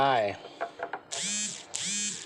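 The plastic cover of a water pump pressure switch is twisted back on, making two sustained grinding, ratcheting turns at close range after a man's speech.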